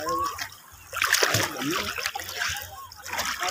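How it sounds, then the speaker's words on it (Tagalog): A child splashes water while bathing outdoors, with repeated sloshing and splatter under adults talking and scolding nearby. "huwag ka papagaspas ng tubig"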